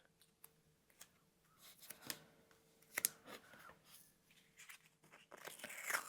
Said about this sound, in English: I'm just going to tape the corners down.